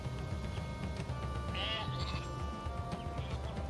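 Sheep bleat in the Northgard strategy game, several wavering bleats at moderate volume over a steady background game soundtrack.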